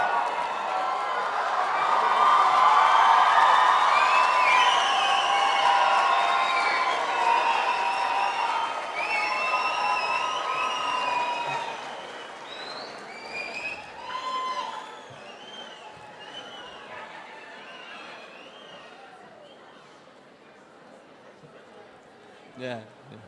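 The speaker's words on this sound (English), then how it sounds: "One more round of applause for your graduates." A crowd at a 2021 high school graduation ceremony claps and cheers for the graduates, loud and dense at first, then thinning into scattered whoops and a few claps as it fades out.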